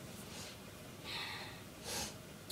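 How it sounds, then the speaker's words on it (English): Allergy sniffling at a quiet desk: three short, soft nasal sniffs spaced about a second apart, faint and close against near silence. "if you might hear me like sniffling because I have allergies right now"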